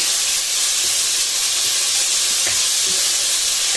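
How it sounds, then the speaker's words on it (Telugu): Cabbage sautéing in oil in a pan gives off a steady, loud sizzle and hiss throughout, with a few faint stirring clicks near the end and no voices. "ఇలాంటి క్యాబేజీని వేసి పెట్టుకున్న తర్వాత ఇప్పుడు దీన్ని ఆయిల్లోనే కాస్త మగ్గించుకోవాలన్నమాట"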